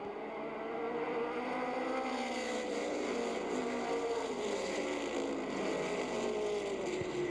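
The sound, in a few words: race cars accelerating around an oval track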